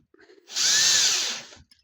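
A cordless drill drives a screw into the case of a Milwaukee M12 BPD drill during reassembly, giving a single loud, near whir of about a second that ramps up and tails off, with no talk.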